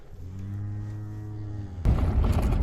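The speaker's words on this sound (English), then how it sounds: "There aren't many sights I like seeing more than seeing all the cows out back, spread out, grazing." Cattle grazing out back on a farm give a long, steady low moo that holds for nearly two seconds, after which a burst of louder broadband rustling and noise cuts in.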